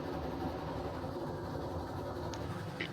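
A loaded train in the RailRoads Online game rolls along its track in snow, a steady continuous rumble and rail noise with faint clicks, with no talking.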